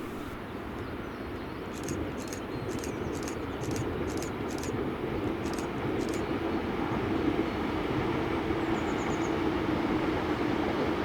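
A ScotRail class 385 electric unit, 385018, crosses Motherwell Viaduct on a Lanark service, giving a faint, distant, steady rumble with light rhythmic clicks above it throughout.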